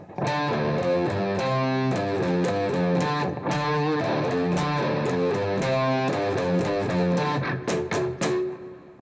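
Distorted electric guitar playing a full riff with a muted-string strum fill, dense and continuous with sharp percussive strums cutting through the sustained chords.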